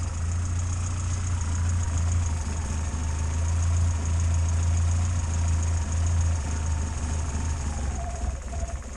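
A Morris Minor car engine idling on the choke in the dark: a steady low mechanical hum with a faint regular ticking, close and constant for the whole stretch.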